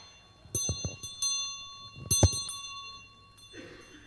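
A hand bell rings during a Sunday worship service at a Methodist church, giving several separate bright metallic strikes with ringing tails, a sharper clang near the middle and a softer shuffle at the end.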